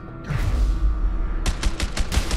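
Gunfire in the co-op action video game A Way Out: a loud burst of rapid shots, several sharp cracks in quick succession following a stretch of rumbling in-game noise.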